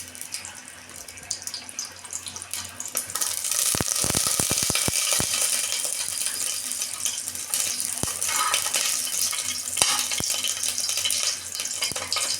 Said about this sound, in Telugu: కొంచెం నెయ్యి అయితే పోస్తున్నాను.